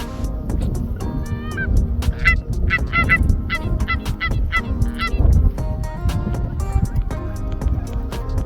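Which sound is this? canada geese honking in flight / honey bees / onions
canada geese honking in flight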